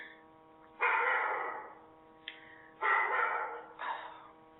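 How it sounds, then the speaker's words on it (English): A dog named Ava barks at another dog through a window: three loud, sharp barks spaced a second or so apart, close by, over a faint steady hum. "Ava's barking at that dog through the window."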